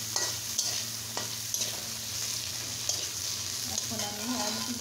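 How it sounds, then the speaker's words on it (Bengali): Green chili, chopped onion, garlic and tomato frying in a pan, giving a steady close sizzle with occasional stirring clicks and scrapes throughout, no talking. "সরিয়ে আমি এখন কাঁচামরিচ চিরা, পেঁয়াজ কুচি, রসুন কুচি আর টমেটোটা দিয়ে দিলাম। দিয়ে এটা সুন্দর করে ভাজা ভাজা করে নেব।"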